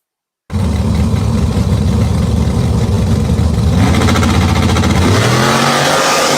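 A car engine starts abruptly and runs loud and close with a rough, lumpy idle and revving; near the end the pitch sweeps as the revs change, with spitting crackle from the exhaust.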